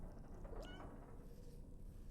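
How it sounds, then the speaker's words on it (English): A cat in the video game Death Stranding 2 lets out a single soft, short meow over a steady low background hum. "A little soft meow indeed."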